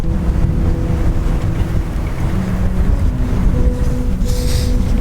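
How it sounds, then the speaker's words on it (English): Cold, blustery wind buffets the microphone on the coast near Calais, a steady low roar with gusts that rise and fall throughout, no voices over it. "Not only is it blowy, but it's like an ice wind that just gets you."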